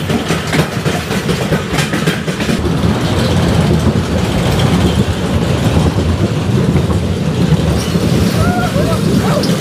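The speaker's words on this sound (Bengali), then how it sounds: "চলে আসলাম রোলার কোস্টার রাইডটা এনজয় করার জন্য।" A roller coaster at an amusement park in Narsingdi rumbles and clatters continuously along its track, a loud, close mechanical roar with rattling clicks. Faint voices are heard beneath the noise.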